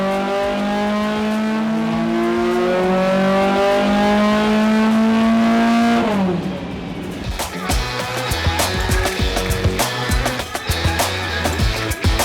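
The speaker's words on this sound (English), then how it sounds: "what we've got here is a BMW M6 with a V10 engine" BMW M6 with a V10 engine revving up, a loud steady high rev held for several seconds, then dropping off into rougher, choppier engine noise and clatter.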